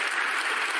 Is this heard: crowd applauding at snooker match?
yes